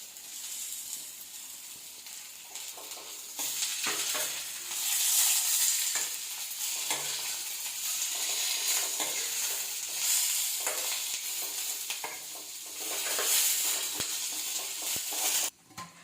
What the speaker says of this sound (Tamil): இந்தளவுக்கு வெங்காயம் வதங்கினா போதும்.